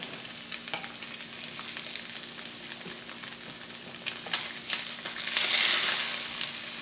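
Eggs fry easy over in a pan with a steady, close sizzle that swells louder near the end, broken by a few light scrapes and taps of a spatula, with no voices.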